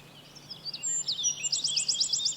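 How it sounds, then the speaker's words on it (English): A wren, tiny forest bird, sings a short, high, rapid twittering phrase of quick repeated trills, fairly close and clear over quiet woodland ambience. "The wren is the smallest of the local bird population."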